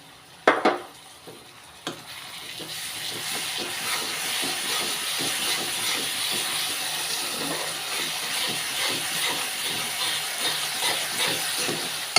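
Onions fry in a pan with garlic ginger paste for Kashmiri achari chicken: a couple of sharp clunks, then a steady close sizzling hiss with faint stirring scrapes running throughout, with no voices.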